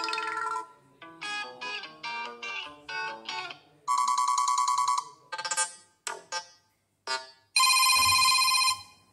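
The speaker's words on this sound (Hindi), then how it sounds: "किसी पे भी क्लिक करके लगा सकते हैं रिंगटोन आप।" A ringtone plays on a Lava Yuva Pro mobile phone, a bright electronic melody of short repeated tonal notes with brief pauses, loud and close with no talking.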